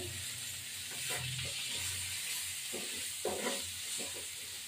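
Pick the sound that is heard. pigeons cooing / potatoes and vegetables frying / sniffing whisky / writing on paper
potatoes and vegetables frying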